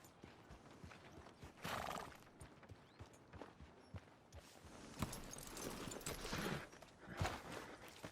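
A horse in the video game Red Dead Redemption 2 neighs and whinnies several times between steady clip-clop hoofbeats, set among other faint game sounds.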